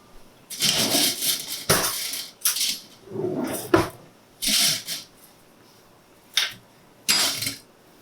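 A spoon clinks and scrapes against a pan while cooked chicken wings are stirred and tossed, in several separate bursts of metallic clatter with short quiet gaps between them.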